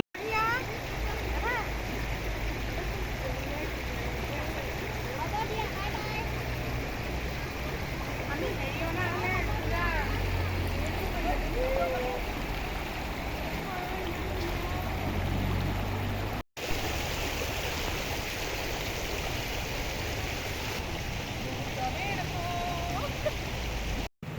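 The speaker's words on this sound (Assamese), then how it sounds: "বাটৰ মুখতে নামি আমি এটা নিজৰা পালোঁ আৰু সেয়া কাষেদি নামি আহি নিজৰাটোত ননমাকৈ নোৱাৰিলোঁ" A fast-flowing forest stream rushes loud and close, with steady splashing as people wade through the current; voices talk over the water now and then.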